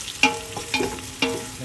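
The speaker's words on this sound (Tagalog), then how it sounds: "kailangan laging maingay yung dito, yung kawali nyo or kaldero" A pan of kare-kare is stirred over the heat, with three sharp metallic scrapes of a utensil against the pan over a soft sizzle, set at a steady rhythm.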